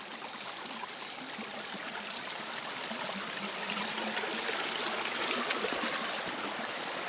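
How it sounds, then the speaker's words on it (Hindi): Monsoon rainwater gushing out from rock below a hillside village in the mountains makes a loud, continuous broadband rush of flowing stream water, steady throughout with no voices. "देखो बरसात का ये पानी, इतना ज़्यादा पानी है अभी ये"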